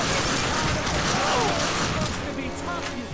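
Dense gunfire in the bloody shooter video game The Darkness 2, a continuous loud barrage of overlapping shots and mechanical clatter with no pauses.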